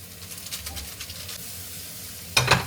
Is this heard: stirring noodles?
yes